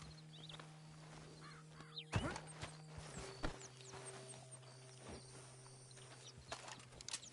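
Horse hooves clip-clop at an easy walk in the Red Dead Redemption 2 game world, soft and somewhat distant over a steady low hum, with a few faint bird caws; no clear whinny stands out.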